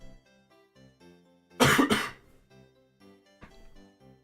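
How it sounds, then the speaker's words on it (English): One loud, close cough in a quick double burst stands out against quiet background tones, with a fainter throat noise following a moment later. "I hate seeing my microphone peak every time I cough."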